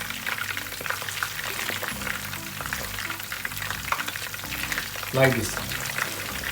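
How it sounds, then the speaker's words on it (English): Paneer cubes frying in a pan of hot oil for restaurant-style chilli paneer, a steady close crackling sizzle throughout with a brief louder burst near the end, and a voice speaking briefly over it. "We have to fry the paneer until light brown color"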